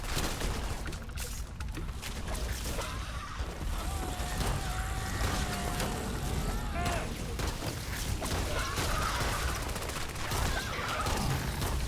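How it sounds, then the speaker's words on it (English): Enemy weapon fire during a Starfield firefight: dense bursts of shots and mechanical clatter run steadily for several seconds, with a whining tone partway through and constant loud battle noise. "Why is he using an EMP weapon?"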